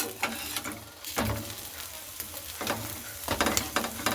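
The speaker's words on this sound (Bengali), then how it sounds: "এই পিঠটাও আমি ভেজে নিচ্ছি" Flatbread made from flour, boiled potato and egg fries in hot oil with a steady close sizzle, several sharper crackling bursts rising over it as it is pressed and turned.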